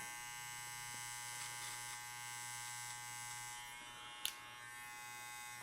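An electric beard clipper buzzes steadily and quietly while trimming a beard, a constant motor drone with faint shifts as it moves and one sharp click near the end.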